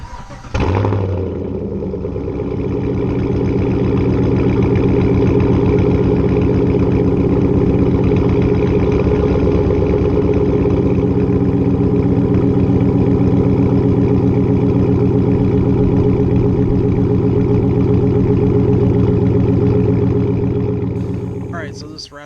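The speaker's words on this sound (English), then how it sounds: "let's do a cold startup!" A 2014-or-later Chevrolet Silverado/GMC Sierra pickup with a Corsa catback exhaust cranks and catches on a cold start, then settles into a loud, steady rumbling idle from the exhaust, droning close by for the whole stretch before cutting off.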